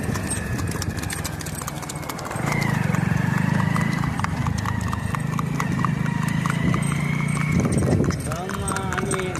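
A mare's hooves clip-clop at a steady trot on hard ground, close by and loud, and a high whinny breaks out near the end while people talk over it.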